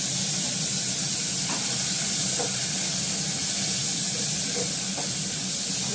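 Potatoes and onion added to leftover fish-frying oil give a steady, close hiss and sizzle, with a few faint stirring clicks and no talk.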